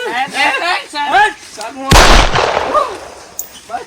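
A single sharp, loud gunshot cracks out between bursts of excited talking, its blast ringing briefly before voices resume.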